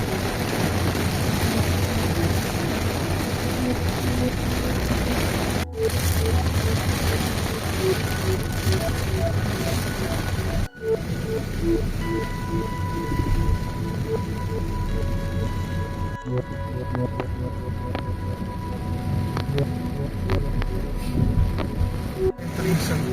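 Rain drums continuously on a Tesla driving along a road near San Narciso, Zambales, a steady dense patter over road and cabin noise, broken by a few brief dropouts.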